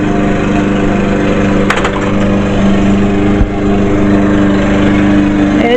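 A lawn mower runs steadily while someone mows a backyard lawn near weedy garden beds, a continuous mid-distance engine drone with a few brief knocks over it.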